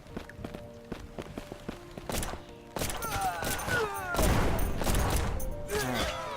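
Gunfire from enemy gunmen in a pirate video game, with rapid bursts of shots over clicks and thuds of movement that build into a dense, loud barrage toward the end.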